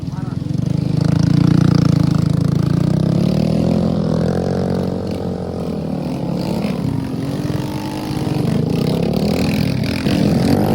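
A motorcycle taxi (ojek) labors up a steep, slippery mountain trail on Mount Slamet, its engine droning and rising in pitch close by, steady throughout with a loud surge near the start.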